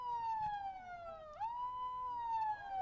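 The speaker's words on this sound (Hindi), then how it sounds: "तो ये सायरन की आवाजें आप सुन रहे हैं" A single civil alert siren, sounded for two minutes, wails steadily, its pitch gliding down, dipping, then rising again, heard clearly over quiet background noise.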